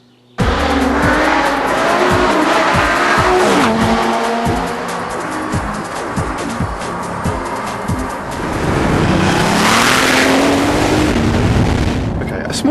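A Lamborghini Gallardo sports car drives hard, its loud engine revving up and down through gear changes with tire squeal and skidding, close and continuous throughout.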